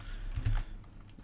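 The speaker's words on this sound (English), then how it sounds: "Actually, let me type it now." Computer keyboard typing, a short burst of key presses with a louder cluster of strikes in the middle, close and clear with no talking.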